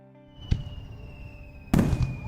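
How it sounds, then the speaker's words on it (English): Two booming fireworks bangs in a video game, the first sharp and short, the second a louder crackling burst, over a sustained tonal music-like background. "Oh, the fireworks are starting."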